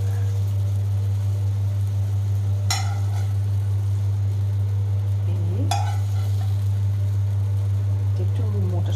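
Tomatoes roasting in a pan for a homemade burger give a steady, close sizzle under a low hum, broken by a few brief utensil scrapes.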